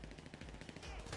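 Gunfire in GTA V, a rapid run of automatic shots crackling in quick succession, mixed with game sound and fairly faint overall.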